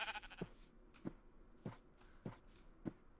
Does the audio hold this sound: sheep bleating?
yes